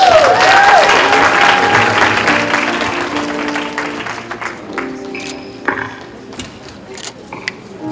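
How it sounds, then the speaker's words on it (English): Wedding guests clap and cheer for the newly married couple, a loud burst of applause that thins out into scattered claps, with a few faint voices in the crowd. "Give them a round of applause"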